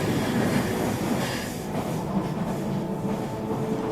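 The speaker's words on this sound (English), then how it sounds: "sitting on the comfortable, beautiful Swiss train" A Swiss passenger train running through Switzerland, steady low rumble and rolling wheel noise heard from inside the carriage, continuous and fairly loud with faint clatter throughout.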